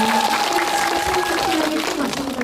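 Audience applause in a cinema after a screening Q&A, a dense continuous clapping wash that carries over a voice talking through it.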